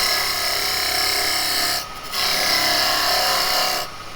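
A bowl gouge with a 45-degree bevel cuts a tenon on wood spinning on a lathe: a loud, continuous, close rasping shave that twice briefly drops off as the tool lifts away.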